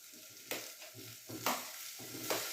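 Spring onions cook in a pan, stirred with a few scraping strokes over a soft steady sizzle, close and moderately quiet, with no talking.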